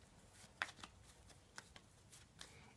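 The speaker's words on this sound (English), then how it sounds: "you're going to shuffle them up" Playing cards for the Fruit Assassin game get shuffled close up, a quick run of soft riffling snaps and taps spread over a couple of seconds.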